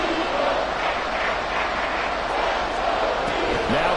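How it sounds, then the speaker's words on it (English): A football stadium crowd roars loudly and continuously near the goal line, a dense wall of cheering with a commentator's voice talking over it. "This crowd doing all they can."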